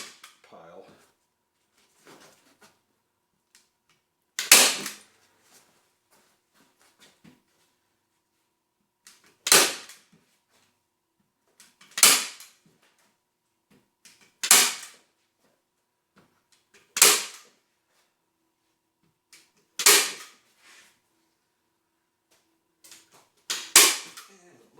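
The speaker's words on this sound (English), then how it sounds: "I'm gonna buy another staple gun." A staple gun fires into acoustic panels in a workshop, with sharp single snaps repeating roughly every two to three seconds, close and prominent, with faint handling noise between shots.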